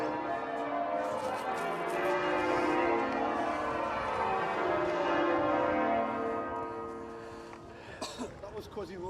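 Church bells in York ring out in a loud, full, continuous peal that swells and then thins toward the end, where brief scattered sounds break through.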